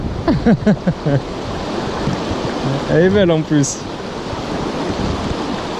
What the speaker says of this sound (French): À part le vent qui nous empêche un petit peu de pêcher vraiment en neuf.